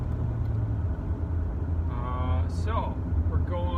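A truck drives on the road at about 50, a steady low engine and road rumble with a voice talking over it partway through.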